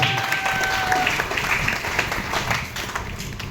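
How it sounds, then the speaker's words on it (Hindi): A crowd applauds at a gathering in Robertsganj, a loud sustained burst of clapping that stays even and thick, with a low murmur of voices underneath. "उनके लिए जोरदार तालियां हो"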